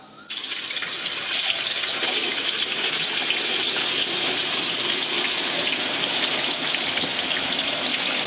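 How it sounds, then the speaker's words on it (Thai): Steady, dense sizzling and crackling of tofu frying in hot oil, loud and continuous throughout with no voices. "พอน้ำมันร้อนแล้วนำเต้าหู้ลงทอดได้เลยครับ"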